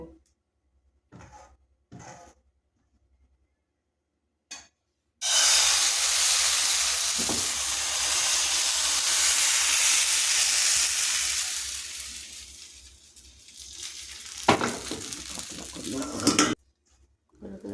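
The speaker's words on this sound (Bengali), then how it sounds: "কড়াইতে সামান্য করে বাটার দিয়ে আমি পিঠেটাকে সুন্দর করে ভেজে নেব" A loud, steady hiss of a rice-flour cake frying in butter in a hot wok starts suddenly, holds for several seconds, then cuts off, with a few clinks before and after.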